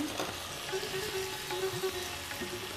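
Cashew and melon seed paste frying in a pan while being stirred, a continuous gentle sizzle with occasional spoon scrapes and no talking.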